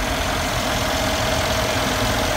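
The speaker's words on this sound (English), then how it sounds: "I have got both of the cars running for you already" The hand-built engine of a Mercedes-AMG G63 idles at a constant, even rumble, steady and close, with no talking over it.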